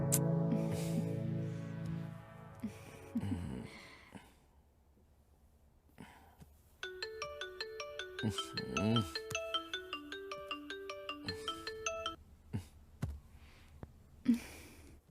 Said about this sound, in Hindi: किसका फोन आ रहा है